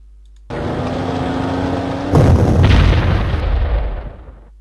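Artillery fire in a video game: a steady rumbling bed of distant gunfire swells into heavier, louder booming bursts midway, then slowly fades, with no talk.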